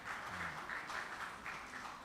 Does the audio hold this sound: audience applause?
yes